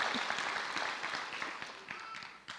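Audience applause at a high school graduation ceremony, a crowd clapping steadily and densely, slowly tapering off with a few distinct claps near the end.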